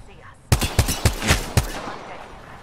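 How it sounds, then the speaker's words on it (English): Enemy gunfire in a video game, a quick burst of five loud, sharp shots in rapid rhythm that ends abruptly, close and dominant. "They're shooting at me."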